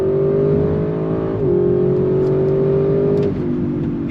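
A 2022 Audi RS6 Avant accelerating hard, its loud engine note climbing steadily before dropping at two distinct 8-speed upshifts, then pulling again in a continuous close-up roar.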